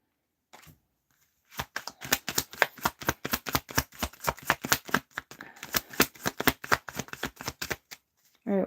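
A tarot deck being shuffled by hand, a quick run of sharp rhythmic card slaps and riffles lasting several seconds, close and crisp, with a brief voice at the start and end.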